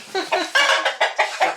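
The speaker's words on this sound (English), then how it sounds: "Come on, little chicken." A small chicken indoors in a tiny house clucks in a quick run of six or seven short, close, moderately loud calls, with no talk over it.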